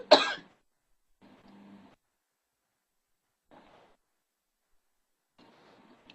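A lecturer coughs and clears the throat during a biology class: one sharp loud burst at the start, then a few quieter, scattered rasping throat noises separated by silence.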